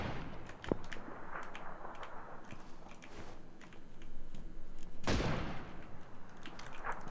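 An M24 sniper rifle fires in a video game: two sharp, loud shots several seconds apart cut through steady background game noise.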